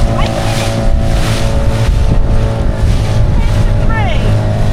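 A Honwave inflatable motorboat on Loch Leven runs with a steady, loud engine drone and heavy wind buffeting against the microphone, constant throughout with water rushing beneath.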